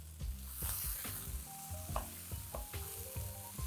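Corn kernels and chopped spinach sauté in a hot pan with a bright, continuous sizzle and regular spoon strokes scraping and tapping against the pan, close and fairly quiet.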